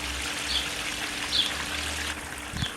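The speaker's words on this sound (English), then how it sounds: "down at the one corner there's a waterfall behind those arrowhead plants" A small backyard pond waterfall behind arrowhead plants gives a soft, continuous trickling and splashing, heard faintly from a short distance with a faint background hum.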